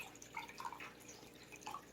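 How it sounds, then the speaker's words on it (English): Water drains out of a doll-making mold in quiet, close trickles and drips, faint and irregular with a few brighter splashes. "I'm going to go ahead and pour the water out"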